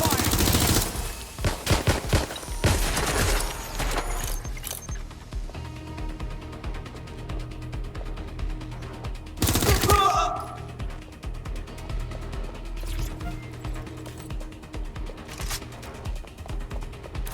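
Video game gunfire in Watch Dogs Legion: loud bursts of shots in the opening seconds and again near ten seconds, with quieter rapid firing in between and a game voice speaking over the action.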